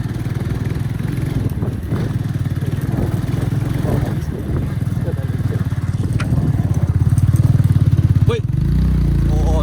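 An adventure off-road motorcycle engine chugs nearby, idling then revving louder toward the end, with people talking over it.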